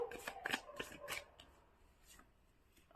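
Tarot cards are shuffled and drawn by hand, a soft papery riffle of quick flicks and slides, close but faint, with no talking.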